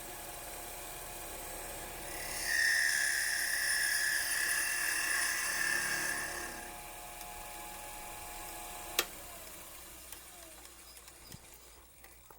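A Porper Q-Lathe Model B spins up to face a cue ferrule, giving a high whining tone that rises for a few seconds, then fades into a low hum, with a sharp click partway through.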